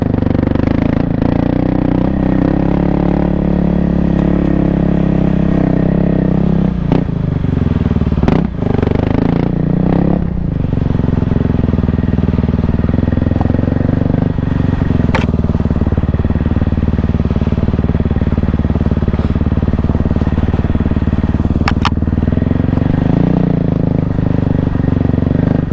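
A 2024 Kawasaki KLX300R dirt bike climbs a leafy mountain cross-country trail, its engine droning steadily and loud throughout, with brief clatter and throttle blips over rough ground.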